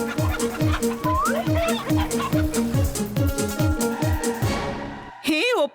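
A cartoon chicken clucks in a rapid, rhythmic series of bright, close clucks, ending with a brief squawk-like cry.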